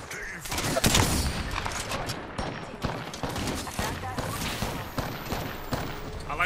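Rapid gunfire in a video game: dense bursts of shots crackle continuously at close range and stay loud throughout, with players talking over them.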